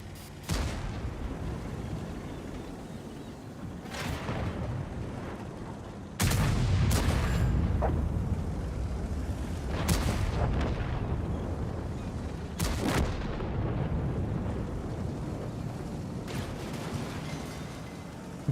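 Gunshots fired at a rat in a video game: several sharp, loud reports come at irregular intervals, a few seconds apart, over a steady rumbling game background with no voices.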